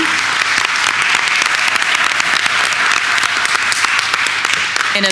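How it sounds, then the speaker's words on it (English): Sustained audience applause at a school board of education meeting honoring administrative support staff, dense steady clapping filling the room for several seconds without a break. "just another round of applause to all of our administrative support staff"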